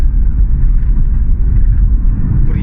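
A used VW T4 van being driven home after purchase, heard from inside as a loud, steady low engine and road rumble with no voices.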